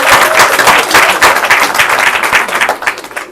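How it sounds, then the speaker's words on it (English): Audience applause at a business event on empowering small enterprises, steady dense clapping from a crowd filling the whole stretch at moderate loudness with no talk over it. "So can you please give a round of applause."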